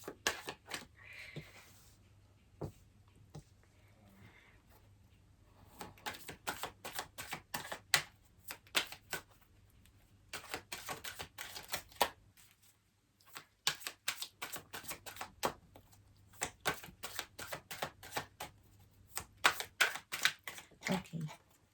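Tarot cards shuffled by hand, bursts of rapid crisp riffling clicks repeating in quick clusters with short pauses between, close and fairly loud, with a voice speaking quietly in places.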